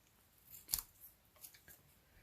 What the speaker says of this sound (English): we're going to try cutting it with just scissors